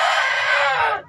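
A free-range village rooster at a home-scale poultry farm lets out one loud, close crow that holds steady and then tails off abruptly near the end.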